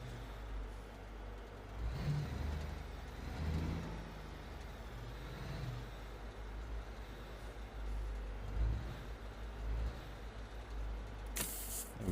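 A truck engine idles and rumbles faintly in the trucking game Alaskan Road Truckers while a low-loader hauls a wooden frame, with a low steady drone swelling a little now and then and no voices.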